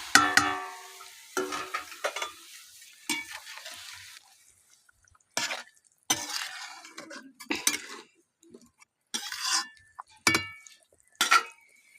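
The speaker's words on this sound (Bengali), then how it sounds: "এবার মাছ ভাজাগুলোকে গ্রেভির মধ্যে দিয়ে দেব।" Fried pieces of catla fish go into a simmering gravy for kalia, bringing scattered clinks and scrapes of a utensil against the pan in short bursts with quiet gaps between.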